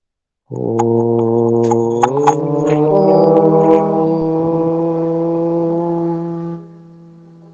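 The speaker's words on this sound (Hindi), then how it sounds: "आइए मिलकर एक बार ओम की ध्वनि करते हैं" A group of voices chants a single long, steady Om in unison, the tone rising slightly before holding and then fading out.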